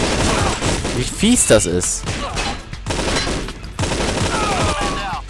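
Gunfire from a sniper and other weapons crackles in the video game Infernal, with dense rapid shots and thuds through the clip. Someone talks over it.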